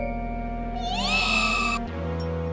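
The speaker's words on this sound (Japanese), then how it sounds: "ポリリーナさんの猫ちゃんが。" A cat meows in the video game Galaxy Fräulein Yuna 3, a single drawn-out, rising and falling meow heard loud over a steady game music backdrop.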